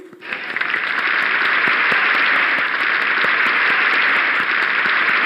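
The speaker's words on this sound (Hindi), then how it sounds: "तालियां बजती रहनी चाहिए।" Steady, loud applause from a sizable seminar audience, building quickly and holding at full strength throughout.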